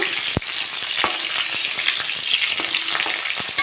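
Potatoes fry in hot oil in a pan with a steady, dense sizzle close by, broken by a few sharp clicks and scrapes of stirring, with no voices.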